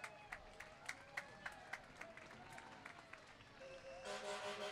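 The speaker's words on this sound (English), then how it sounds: "Everybody give them a big round of applause." Scattered crowd applause along the street at an Old Town Temecula 4th of July parade, a few distant claps giving way to a fuller, steady wash of clapping toward the end, fairly faint with background noise.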